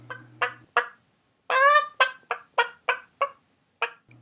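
A chicken clucks in a run of about ten short, sharp calls, one drawn out longer, spaced unevenly and heard close and clear with no other sounds.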